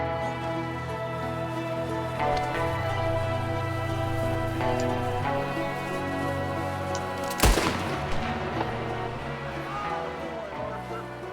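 Gunfire in Red Dead Redemption 2 during a fight with O'Driscoll boys, a few sharp shots with one loud close crack standing out over a dense game soundscape of music and ambience.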